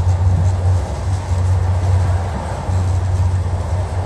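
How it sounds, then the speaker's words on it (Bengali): Steady low rumble of a moving train travelling between Genova and Monfalcone, Italy, heard from inside a carriage, with a continuous droning hum and faint rattling throughout. "দেখতেই পাচ্ছেন ট্রেন ছেড়ে দিয়েছে"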